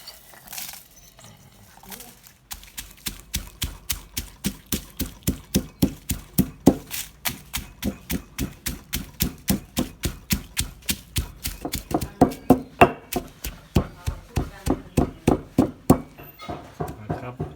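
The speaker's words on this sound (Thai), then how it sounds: "ตำเครื่องแกงครับ เครื่องยำเห็ดครับ" A pestle pounds chili paste for a termite mushroom salad in a mortar with steady, rhythmic thuds, close and loud. The beats grow more forceful as it goes on, and a voice can be heard briefly at the start.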